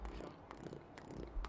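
A person imitates a kitten purring with a soft, low rolling rumble broken by a few short breathy bursts, close and quiet.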